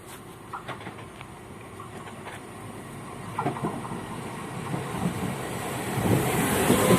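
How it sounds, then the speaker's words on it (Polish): A Regio regional train running from Kołobrzeg to Szczecin Główny pulls into a station platform, its rumble and wheel clatter building steadily louder as it nears, with wind buffeting the microphone. "A tutaj wjeżdża Regio z koło brzegu do Szczecina Głównego."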